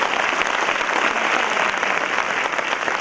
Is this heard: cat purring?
no